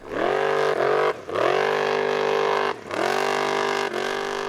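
A big, heavy Formula Offroad buggy called the Viking revs hard at a competition in Hafnarfjordur, Iceland, its engine roaring loud and close in sustained bursts broken by three brief dips in pitch as it shifts or lifts.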